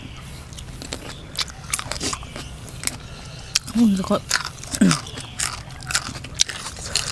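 Someone bites and chews crunchy chicken feet in a spicy papaya salad with rice noodles, giving sharp close crunches and moist chewing in bursts while someone talks between bites.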